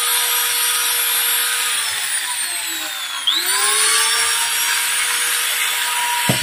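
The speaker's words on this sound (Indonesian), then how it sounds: "bor kita nyalakan dulu, kita pencet" An electric drill runs continuously with a high whine that dips briefly in pitch midway, as if loaded by the power supply, then recovers and keeps spinning loud and close, with no talking.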